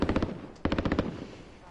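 Machine gun fire in the video game Warzone, two quick bursts of rapid shots, the second burst longer and louder, with a short gap between them.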